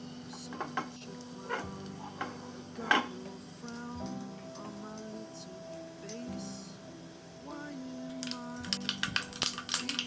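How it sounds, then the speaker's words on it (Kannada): Mustard seeds and cumin with a pinch of asafoetida crackle in hot oil for a poha snack tempering. Scattered small pops come with the clink and scrape of a stirring spoon, getting busier toward the end, while voices talk faintly. "ಸ್ವಲ್ಪ ಚಟಪಟ ಅನ್ನಲಿ ಸಾಸಿವೆ ಜೀರಿಗೆ"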